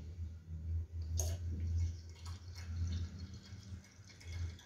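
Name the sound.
cold water poured into a jug for almond sharbat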